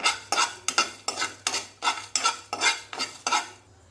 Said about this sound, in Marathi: आता हे सुके मसाले छान भाजून घेऊया